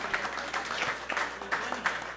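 Quiet applause from a live show audience, a short patter of clapping bursts at moderate distance, faint overall.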